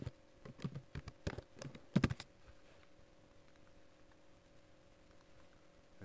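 Keyboard typing on a computer as a travel itinerary is entered, a quick burst of clicky keystrokes in the first two seconds, then quiet room tone with only faint scattered taps.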